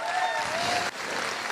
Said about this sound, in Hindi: मैं चाहूंगा सर के लिए भी जोरदार ताली होनी चाहिए।